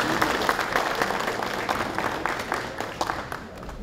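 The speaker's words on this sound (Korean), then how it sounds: "큰 박수 부탁드리겠습니다." At a Korea Boxing Association ceremony presenting certificates to newly qualified referees, an indoor audience gives steady, moderate applause that continues through the whole short stretch.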